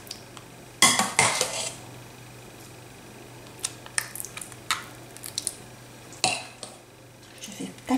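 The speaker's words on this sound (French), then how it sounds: "Une fois que j'ai bien réparti à l'aide de la cuillère, du dos de la cuillère comme ça" Bolognese sauce spread in a lasagne dish with the back of a spoon, close, irregular scrapes and clinks of the spoon against the dish, with quiet gaps between them.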